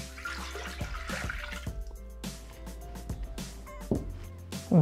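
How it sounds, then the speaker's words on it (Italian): Tap water runs into an empty Thermomix (Bimby TM6) mixing bowl, with a steady splashing pour and clatter close by before couscous is cooked. "andiamo ad aggiungere l'acqua."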